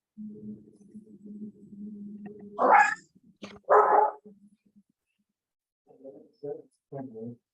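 Dogs at home barking during a council meeting call, a low continuous hum then a few sharp loud barks, followed by a series of shorter yips.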